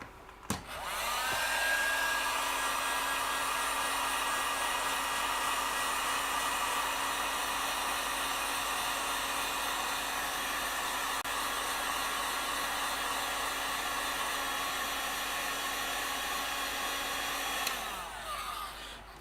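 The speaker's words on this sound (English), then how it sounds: "And now the industrial grade hair dryer." An industrial-grade hair dryer, used to shrink heat-shrink tubing while building an amplifier, blows hot air in one loud, steady whoosh with a constant motor whine, switching on at the start and cutting off near the end.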